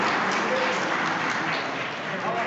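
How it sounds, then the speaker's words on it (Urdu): An audience at a speech competition applauds to welcome a speaker, dense continuous clapping filling the hall at steady loudness for the whole span. "آپ کی بھرپور تالیوں میں استقبال کیجیے گا"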